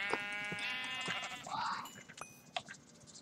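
A sheep bleats in a block-building video game with a texture pack, one wavering bleat then a second one, mid-level over faint background noise.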